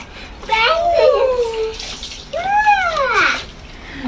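Water sloshes in a toy bath as Barbie dolls are played with, a steady wet wash heard under a child's high, sing-song voice talking playfully.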